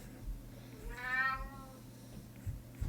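A male cat gives one clear, drawn-out meow in the middle over a low steady hum, with quiet taps and thumps around it. Recorded during an indoor gesture drawing session.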